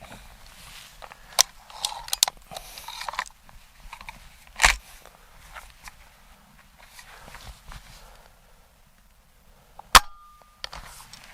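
A Crosman MAG-Fire .22 Ultra air rifle fires, a single sharp crack standing out near the end after quieter handling clicks and scattered knocks.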